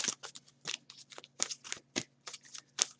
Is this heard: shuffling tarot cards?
yes